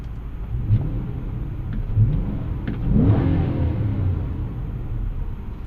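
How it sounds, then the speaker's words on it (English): First-generation Toyota Sequoia V8 exhaust at idle with a low steady rumble, brief blips, then a swelling rev that rises and eases back to a deep burble, recorded close. "grab a listen to that sweet V8 exhaust note"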